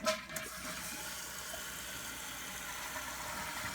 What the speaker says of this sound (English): you're going to do a little test by flushing the toilet.